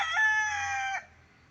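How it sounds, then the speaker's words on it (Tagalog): A rooster crows loud and close on a farm, one long cock-a-doodle-doo lasting about a second, with faint clucking from other chickens around it. "yung manok mga lods, oh. Dami sa farm."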